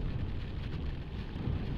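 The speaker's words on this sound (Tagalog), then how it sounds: "Tuloy pa rin ang ride kahit umuulan." Steady rain on a rainy, foggy mountain road ride along Marilaque near Infanta, Quezon, a dense broadband wash of drops with low rumble, continuous and moderately loud throughout, no voices.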